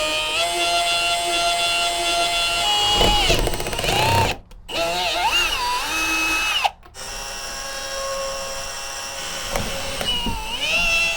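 A power drill bores holes in aluminum inside an E350 box truck camper conversion, a loud whining drone that rises and falls in pitch, cutting out briefly twice before starting up again.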